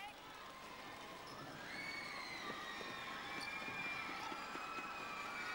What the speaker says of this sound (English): Very vocal crowd, finding their voices once more